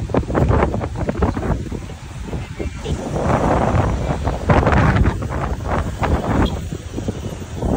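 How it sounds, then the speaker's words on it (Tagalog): Strong wind buffets the microphone in loud, rumbling gusts that rise and fall throughout, with a voice speaking briefly over it. "Lakas naman ang hangin dito."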